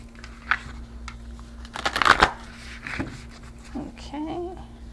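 A deck of archetype cards gets a short close shuffle, a burst of soft papery flicking in the middle, with a faint voice murmuring near the end.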